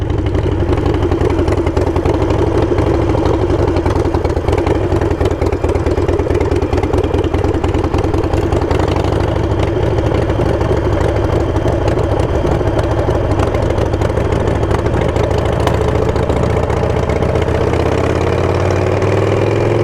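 Custom Harley Davidson Sportster 48 Goodwood Edition with knobbly tires, its engine rumbling at a steady loud idle, close up and continuous for twenty seconds with no speech.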